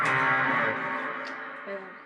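Electric guitar with distortion, chorus and echo effects plays the bridge of a song, a brief sustained chord wash that swells and slowly fades.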